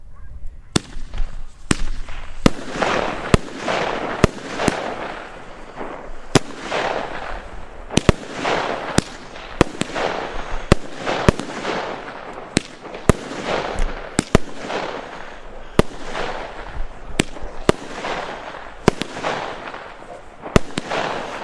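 Black Low Price SrPyro consumer firework cake with 25 shots, a steady string of sharp loud launch bangs spaced under a second apart, each followed by crackling bursts, continuing without pause outdoors.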